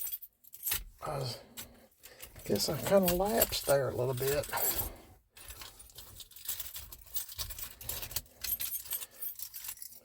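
Keys jangling on a ring while someone hunts for the key to a 1984 Chevy C10 truck, with close metallic clinks and rattles that come in bursts through the whole stretch as someone talks.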